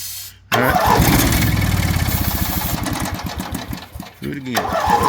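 Coleman Powerhouse generator engine, battery hooked up and breather removed, cranking once and catching into a loud, rapid, uneven chugging run that sputters and dips near the end before picking up again.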